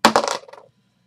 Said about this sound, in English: let's roll a dice